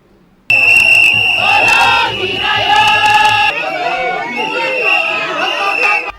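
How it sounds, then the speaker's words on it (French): Bank staff and managers at the BCC headquarters cheer and cry out with joy to see off a departing official. Loud, dense crowd shouting with shrill, sustained cries runs through the whole stretch. "C'est par ces acclamations ponctuées de cris de joie que les agents et cadres de la BCC disent au revoir à Jean-Claude Massango."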